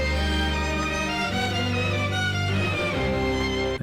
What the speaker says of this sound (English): Here's the first instance in the strings